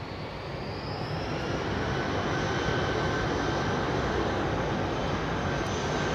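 Jet engines of an Airbus A350 on departure roar in a broad, steady rumble that swells slightly and holds, heard from a distance outdoors with no voices.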